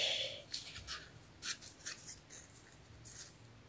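Scissors cut out a small paper figure for a handmade scrapbook card, sounding as faint, intermittent snips and paper rustles close up in a quiet room.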